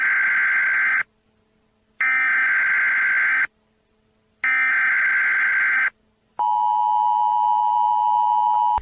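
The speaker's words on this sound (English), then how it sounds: "the alarm would set off the alert of a post-apocalyptic event about to happen." Loud electronic alarm tone in the Roblox Piggy game, three harsh buzzing blasts of about a second and a half each separated by short silences, then a long steady pure beep.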